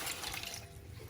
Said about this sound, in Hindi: ये मैं 6 ग्लास पानी की ऐड करूँगी